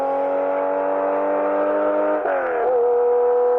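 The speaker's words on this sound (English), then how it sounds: "That's a Porsche, yeah?" Old rear-engine, rear-wheel-drive Porsche rally car with a manual gearbox, its engine holding a steady loud drone that dips and shifts pitch near the end as if changing gear, close and alone.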